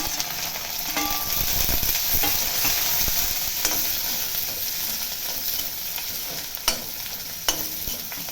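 Chopped shallots sauté in hot oil in a pan for spinach kuzhambu, a steady close sizzle and hiss with occasional stirring scrapes and clicks throughout.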